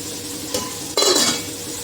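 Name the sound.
tomatoes sautéing in a pan, being stirred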